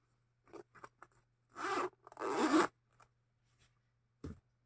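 A zipper slider on clothing is pulled several times: a few short ticks and clicks, then two longer rasping zips, then more scattered clicks, close and quiet against a silent background.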